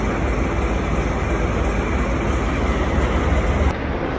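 A train stands at a station before departing for Moscow, giving a steady broadband rumble of station and rail noise that runs throughout and drops slightly near the end.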